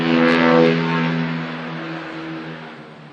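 A fast motorbike passes by on a road with a 50 speed limit, its loud engine whine peaking early and then fading steadily into the distance, heard alone.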